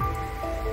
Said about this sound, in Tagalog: Sa lakas ang ulan.